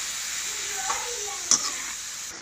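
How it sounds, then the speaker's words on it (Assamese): Paneer frying in a pan over high heat for paneer kheer, giving a steady soft sizzle with a few brief clinks of stirring, close and moderately quiet. "এতিয়া জুইটো বেছি কৰি দি এখিনি অলপ ৰঙচুৱা কৰি ভাজি লম।"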